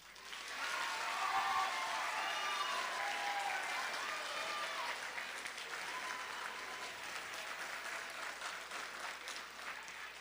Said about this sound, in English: I want a huge round of applause for these student council and YMS leadership members